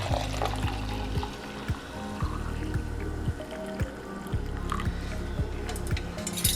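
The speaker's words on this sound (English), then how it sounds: "strain it right into the cup." Cooled homemade thyroid juice poured and strained into a cup, giving a continuous close trickle and splash of liquid broken by small dripping taps and clinks, with no voices.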